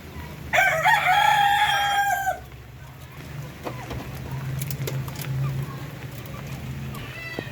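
A native Darag rooster crows loudly and close by on a Philippine chicken farm, one long crow followed by quieter farmyard ambience with faint clucks, and another distant crow near the end.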